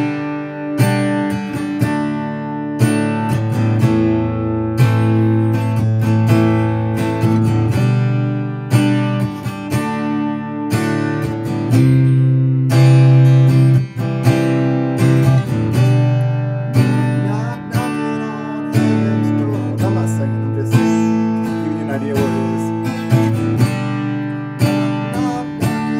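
An electric guitar played through an amp strums the chords of a song, ringing and sustained, with a steady strummed rhythm continuing loud and close throughout without any talking.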